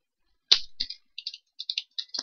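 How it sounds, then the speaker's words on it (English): Typing text on a computer keyboard: short bursts of light, crisp key clicks in quick uneven clusters, close and clear against silence, with no talk. "So we're going to type in our own."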